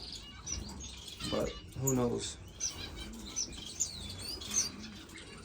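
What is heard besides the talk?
finches chirping in a bird room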